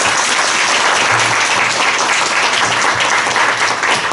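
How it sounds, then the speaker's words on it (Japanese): An audience at an indoor gathering claps to welcome a guest speaker, a dense, even burst of applause that stays loud throughout. "拍手でお迎えいたしましょう"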